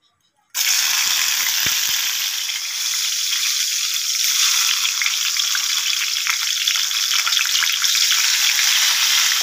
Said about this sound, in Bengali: আলুগুলোকে কড়াইয়ে ছেড়ে দিচ্ছি তেলের মধ্যে।